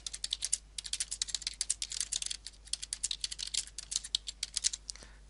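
Steady close-up typing on a computer keyboard during entry of an online appointment booking, a fast, continuous patter of key clicks with brief pauses, alone and fairly quiet.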